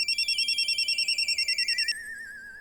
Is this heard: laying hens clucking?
no